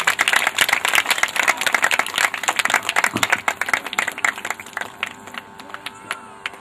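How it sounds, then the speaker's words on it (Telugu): A church congregation claps to welcome the pastor at a prayer meeting, with dense, fast, fairly close applause from many hands that thins out toward the end, and a voice faintly over it. "అందరూ చప్పట్లు కొట్టి ఆహ్వానిద్దాం"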